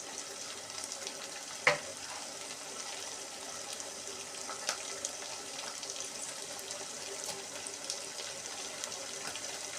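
Green chillies and tomatoes sautéing in a pan for a village-style murrel fish curry give a steady, fairly soft sizzle throughout, with a sharp clink near the start and a few small scrapes.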